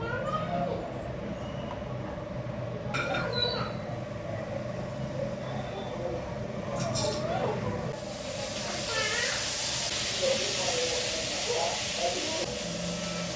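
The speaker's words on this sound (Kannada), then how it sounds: "ಈ 4 ಐಟಮ್ನ ಮತ್ತೆ ಫ್ರೈ ಮಾಡ್ಕೊಳ್ಳೋಣ" Onion, tomato, ginger and garlic fry in a pan for dry fish sambar, giving a steady sizzling hiss that swells louder in the latter half.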